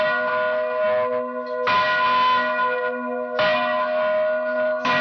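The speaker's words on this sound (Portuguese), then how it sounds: "a gente começa sempre pelo sino menor, aí a gente vai passando e chega até no grande" Church bells of graded sizes rung in sequence from the smallest up to the largest, producing loud, sustained ringing tones that swell in repeated bursts and linger with long decaying harmonics, with no voices.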